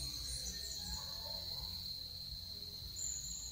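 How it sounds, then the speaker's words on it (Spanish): A steady high-pitched cicada drone buzzes continuously throughout at a moderate, constant level with no pauses, on a farm in Hato Mayor, Dominican Republic. "oigan cómo suenan las chicharras"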